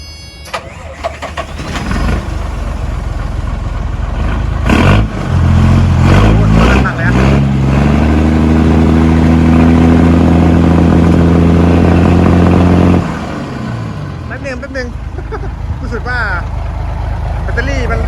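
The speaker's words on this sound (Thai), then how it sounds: "สตาร์ทฟังเสียงเครื่องหน่อย" A 2008 Hino Mega 320 hp tractor truck, running off a jump-started battery, cranks and fires into a loud rumbling diesel idle close by, revving up briefly before settling; a voice speaks at times over the engine.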